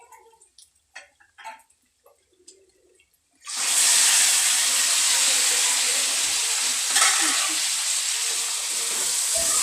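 Small fish dropped into hot spiced oil with chili powder erupt into a loud, steady sizzle that holds for several seconds, following a few quiet clinks and kitchen handling noises at the start.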